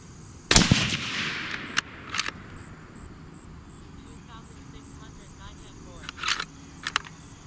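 A suppressed Savage Ultralite rifle in 280 Ackley Improved fires a single sharp, loud shot with a short decaying tail, followed by mechanical clicks of the action and faint background noise.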